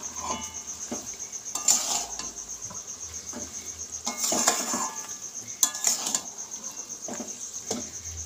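Melted jaggery is stirred steadily in a pan so it won't catch on the bottom: intermittent scraping and sticky stirring bursts under a loud, continuous cricket-like insect drone, close and without speech.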